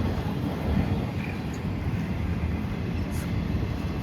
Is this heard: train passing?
yes